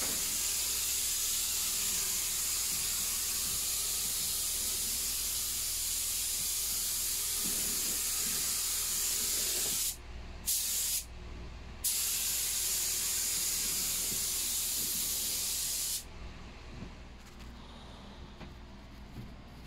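An ANI Super spray gun with a 2.5mm nozzle lays on a heavy coat of green primer, giving a steady loud hiss that runs almost the whole time, broken by two short pauses and easing off near the end.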